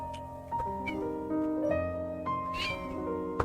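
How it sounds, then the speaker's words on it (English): A cat meows in the background of a PS5 Pro horror game session, a few short cries rising over steady game music and drones with no talk. "I hear a cat in the background."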